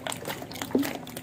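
A thickening emulsion paint is stirred on one side during paint production, giving a close, wet, sloshing churn with a brief gloopy squelch partway through, heard alone with no talking.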